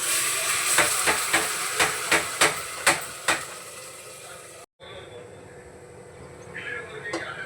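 Oil frying a ground paste of onion, garlic and ginger in a pressure cooker, a steady close hiss with a run of rhythmic scraping strokes at first, then a brief cutoff and a quieter continuing sizzle.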